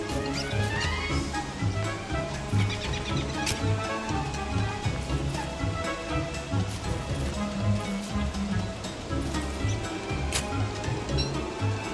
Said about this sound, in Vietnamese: Ơ đang mưa à?